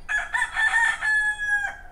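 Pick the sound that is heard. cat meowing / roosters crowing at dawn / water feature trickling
roosters crowing at dawn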